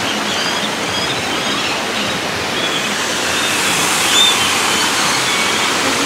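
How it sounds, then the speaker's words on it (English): Waterfall at a casino garden area, a steady, loud broadband rush of falling water that fills the whole stretch without a break and carries no voices. "lots of beautiful waterfalls here"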